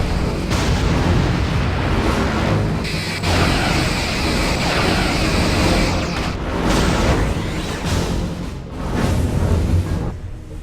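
Torpedoes launch in the Star Trek Bridge Commander space combat game, a loud sustained barrage of booming blasts and explosions layered over dense battle noise, with a few brief lulls between volleys.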